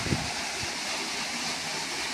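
Water gushes forcefully from the 2.5-inch, 75 mm pipe of a 5 HP Oswal solar water pump, a steady close rushing roar with no pauses.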